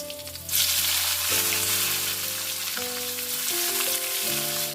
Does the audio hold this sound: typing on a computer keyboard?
no